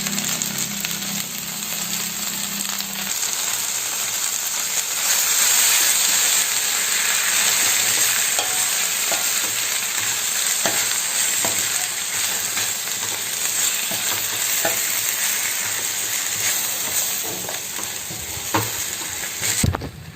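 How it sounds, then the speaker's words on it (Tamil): Boiled cluster beans with ground masala sauté in a pan, giving a steady close sizzle and hiss with occasional scraping stirs throughout, no voices. "இப்போ வேக வச்சிருக்க காயை இதில் போட்டு வதக்கிக்கலாம்."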